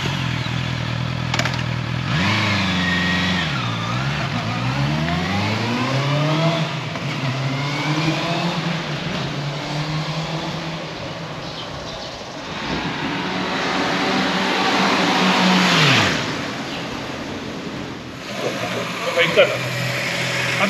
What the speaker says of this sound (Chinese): 我觉得这个引擎的声浪真的很舒服，很绵密